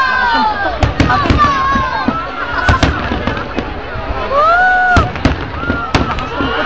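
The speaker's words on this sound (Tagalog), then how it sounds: "Malakas siguro putok niyan doon." Fireworks burst loudly in a rapid, irregular series of sharp booms and crackles, with whistling rockets rising between blasts while onlookers exclaim and chatter nearby.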